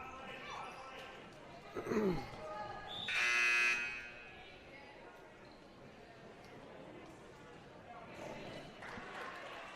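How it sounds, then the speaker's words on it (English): An end-of-quarter buzzer sounds at a high school basketball game, a loud, sustained electronic blare lasting about a second, amid gym crowd noise, squeaks and commentary talk. "nailed that 3 as the buzzer winds down there"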